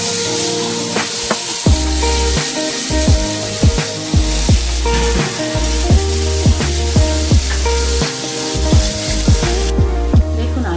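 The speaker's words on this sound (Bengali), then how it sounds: "আর আলুটা একইভাবে ভেজে নেবো।" Potatoes fry in hot oil for egg noodles, giving a loud, steady sizzle throughout, punctuated by frequent sharp scrapes and taps of a spatula against the pan, with no talking.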